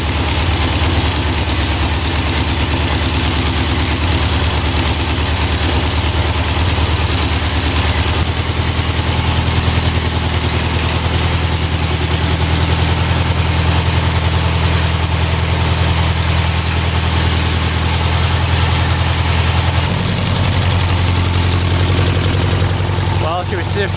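A 1967 Volkswagen dune buggy engine idles steadily with a low, throbbing rumble, loud and close, the pitch dropping slightly near the end.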